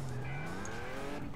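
Video game car in Turbo Dismount driving hard with a steady engine drone and long rising tire squeal, close and continuous throughout.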